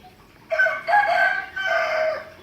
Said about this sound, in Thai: เช้าแล้วเหรอเนี่ย ไก่ขันเนี่ย